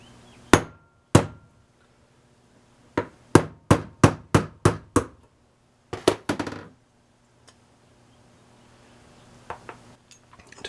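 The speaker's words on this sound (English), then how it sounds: "use the hammer and tap the old one out" A hammer strikes a socket to drive an old front suspension bushing out of a Bugeye Sprite, giving about a dozen sharp metallic taps. A few come singly, then a quick run of blows follows, then a final tight cluster in a quiet workshop.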